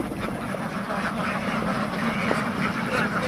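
A flock of ducks quacks busily at close range as they are let out of their enclosure in the early morning, overlapping calls forming a continuous chatter.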